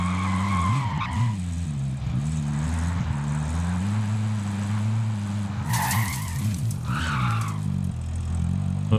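A vehicle in Call of Duty Warzone drives with a loud, steady engine drone, its pitch rising and falling, while tires squeal and skid in two sharp bursts near the end.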